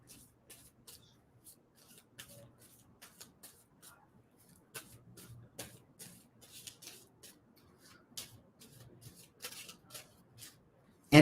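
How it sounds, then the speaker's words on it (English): A deck of cards being shuffled in quick, papery riffles and ruffles, faint and close, repeating in short bursts through the stretch, with a low murmur of voices in the background. "I'm going to stop shuffling on that."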